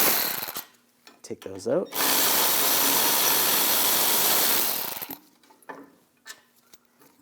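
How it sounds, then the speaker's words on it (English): A powered socket tool with an 18mm socket spins off the caliper bracket bolts on the rear brakes of a 2015-2022 Chevrolet Colorado in one loud, sustained whir of about three seconds, framed by clinks and brief speech. "Now take these two caliper bracket bolts out, use a 18mm socket, loosen those up."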